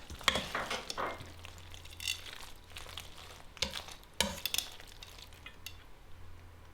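A spoon stirs cheese through cooked macaroni for a rich mac and cheese, giving soft, sticky squelches and a few sharper scrapes and clinks against the pot, close and fairly quiet with no talking.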